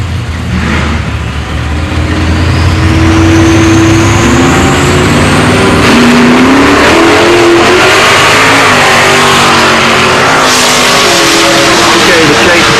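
Two Buick GS Stage 2 drag cars, a big block and a turbocharged one, launch and rev hard down the strip at a Buick GS Nationals meet, loud engine tones rising through gear changes under an announcer's voice.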